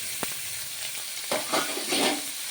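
Sliced onion and green chillies fry in hot oil left from frying salted fish, a steady crackling sizzle with a few stirring scrapes, close and alone.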